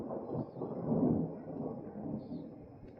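Thunder from a lightning storm in the Oklahoma sky, a deep rolling rumble that swells about a second in and then fades away gradually.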